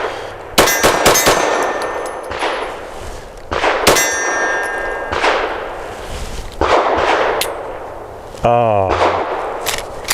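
Several FN 509 Midsize pistol shots ring off steel targets, sharp cracks followed by bright metallic clangs, spaced irregularly across the stretch with a final shot near the end; someone speaks briefly between them.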